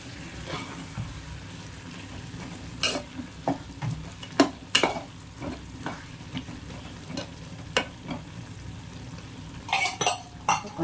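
Potato, drumstick and tomato curry cooks in a pan over a low flame, with a soft steady sizzle broken by scattered sharp clinks and scrapes of stirring against the pot.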